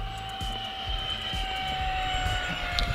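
A HABU SS 70mm electric ducted fan RC jet on a 6S brushless setup flies with a steady, high-pitched whine that shifts slightly in pitch, with outdoor wind buffeting underneath.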